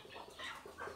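Free-roaming chickens cluck in a quick, soft burst of short calls, faint and brief.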